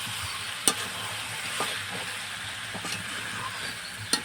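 Fried potatoes tossed into chicken curry sizzling in a pan and stirred, a continuous hissing fry with occasional scraping clinks of a utensil against the pot, close and steady with no talking.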